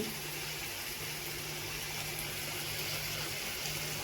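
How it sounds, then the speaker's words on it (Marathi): Water pours steadily into a pot of val (field bean) curry with a ground peanut, garlic and coriander paste, a soft continuous rush at low level with no talk. "अजून पाणी टाकते थोडंसं"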